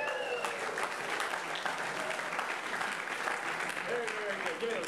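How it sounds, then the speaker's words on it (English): An audience at a university physics club show claps steadily for a volunteer who just completed a demonstration, a continuous crowd of hands with a few whoops and a voice briefly speaking over the applause. "Give him a round of applause"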